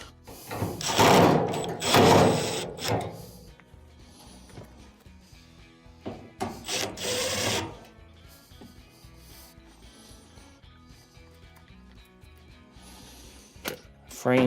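Four screws go back into a squealing, grinding clothes dryer's slightly torqued frame, making two strong bursts of rasping, scraping work, then quieter scattered clicks and handling noises close by.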